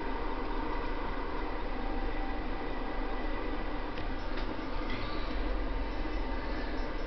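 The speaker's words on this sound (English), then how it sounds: "Oh, and here comes the bullet train." A bullet train rolls past in the Trainz railway simulator, a steady broadband rumble and hiss that holds throughout at moderate level, with faint high ticks partway through.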